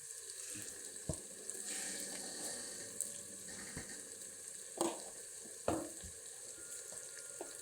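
Spices with salt, red chilli and turmeric sizzle and fry in a pan for kadi pakora, a steady soft crackle broken by a few sharp scrapes of stirring, close and fairly quiet with no voices.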